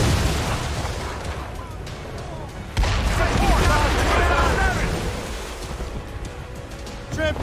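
Ship cannons fire broadsides at sea in Assassin's Creed Rogue: heavy booming blasts erupt over a constant roar of waves and wind, one big volley near the start and another near the end.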